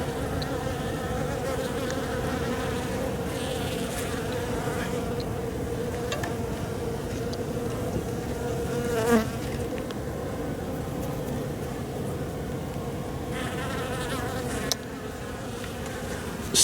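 Honey bees buzz steadily around an open hive during a late-December inspection, a dense, continuous drone close by with no talking.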